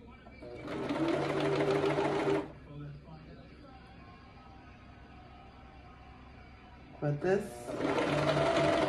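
A Brother 2340CV coverstitch machine hems spandex in two steady, rapid stitching runs at the start and end, close and fairly loud, with a quieter stretch between where a person briefly speaks.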